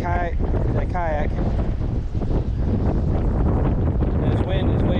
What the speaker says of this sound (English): This wind is way too strong.